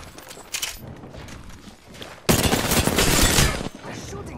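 Gunfire from the Apex Legends video game bursts out in a dense, loud volley after quieter scattered shots, with a person talking over it.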